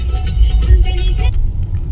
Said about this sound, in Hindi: सब इतना ट्रैफिक है ना